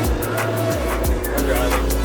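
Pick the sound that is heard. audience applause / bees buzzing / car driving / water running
car driving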